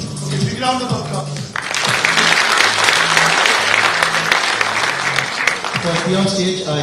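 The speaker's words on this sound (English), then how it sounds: "Round of applause" Audience applause at a corporate best employer brand awards ceremony. A voice talks briefly, then dense clapping swells in and fills the room steadily for several seconds before talk resumes near the end.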